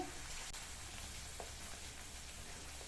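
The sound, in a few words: stirring biryani gravy paste in a pan on low flame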